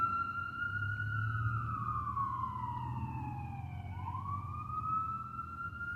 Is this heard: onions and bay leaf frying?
no